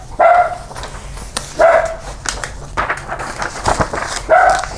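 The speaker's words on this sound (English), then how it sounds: "there's the dog" A dog barks repeatedly in a room, several loud, close barks spaced irregularly over a few seconds, with no speech over them.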